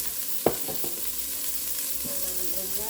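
Chicken pieces sizzling in oil in an enameled cast iron Dutch oven, a steady faint hiss broken by a single sharp clink and a few soft knocks, with no talk.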